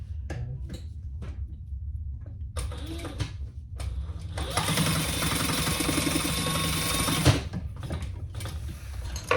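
Sewing machine basting fabric pieces in place, short whirring bursts of stitching, then a longer steady run of rapid mechanical chatter and humming, close and fairly loud, with no talk.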